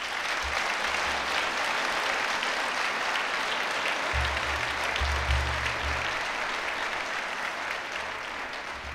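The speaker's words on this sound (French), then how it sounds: "Applaudissons nos invités d'honneur" Steady applause from a seated audience at a university graduation ceremony for the Faculty of Education, honouring guests, a continuous even crowd clapping sustained throughout with a low hum underneath.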